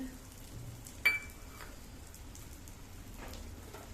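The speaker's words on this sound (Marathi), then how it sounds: "तूप छान गरम झालं आता यात मी डिंक टाकून घेते" Edible gum dropped into hot ghee sizzles with a soft, steady crackle like light rain, fairly faint and close, with a sharp clink of a utensil near the start.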